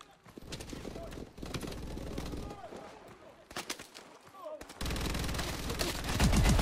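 An armored turret fires in the video game Call of Duty Advanced Warfare, sending rapid bursts of gunfire through a busy, noisy battle mix, with game voices audible in the scene.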